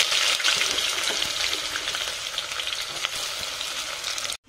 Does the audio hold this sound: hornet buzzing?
no